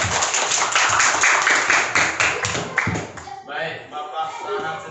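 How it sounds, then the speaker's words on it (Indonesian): A class of students claps in a rhythmic, unison pattern for about three seconds, then the clapping stops and the teacher's voice carries on. "Kasih tepuk tangan untuk kita semua."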